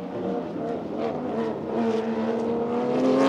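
A GT race car's engine rises steadily in pitch and loudness as it accelerates away at Sepang circuit, a climbing whine over a rough motor growl.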